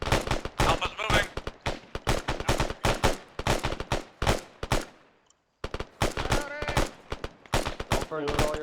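Rapid gunfire crackles in dense bursts during a military squad training exercise, with a short pause before the firing resumes; voices are faintly mixed in.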